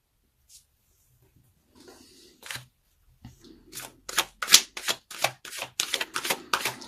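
Tarot cards being shuffled by hand: quiet at first, then a run of quick, crisp riffling bursts that grow louder and faster, close by and with no one speaking.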